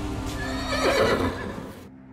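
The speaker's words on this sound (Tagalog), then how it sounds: "Biglang may narinig sila na halinghing ng kabayo." A horse whinnies loudly and close by, one long quavering neigh rising and falling over about a second, with dull background rumble and faint hoofbeats underneath, set in an eerie rural village at night.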